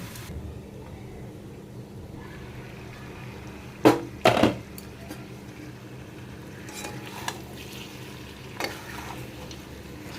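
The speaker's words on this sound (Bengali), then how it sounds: "আবার 5 মিনিটের মতন কষতে দেবো।" Chicken curry sautéing in a pan: a low steady sizzle runs throughout, broken by a couple of sharp metallic scrapes and clinks of a spoon stirring against the pan near the middle, with a few lighter taps later.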